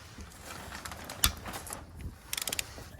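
A ratchet clicks in short bursts while undoing the starter motor bolts on a Dax Cobra kit car, with a sharp metallic knock midway and a quick run of clicks near the end, close up with no talk.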